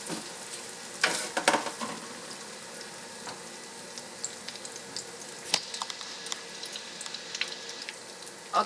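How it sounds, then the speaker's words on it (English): Egg rolls frying in hot oil, with a steady broadband sizzle and crackle and a few sharper pops and spatters scattered throughout, close and fairly quiet, with no talking. "make sure that the oil is nice and hot before you put your egg rolls in"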